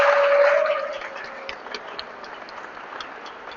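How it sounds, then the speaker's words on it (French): Schoolchildren at the Institut de la Gombe applaud during a visit, their clapping a faint, scattered patter after a brief tone and some murmuring at the start. "est-ce que vous pouvez d'abord applaudir pour notre cher papa?"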